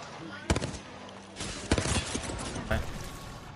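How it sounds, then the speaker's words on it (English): Gunfire from the Apex Legends video game comes in a few sharp bursts and volleys, fairly quiet and spread through the moment, with a voice speaking between shots. "This guy's standing still and shooting me."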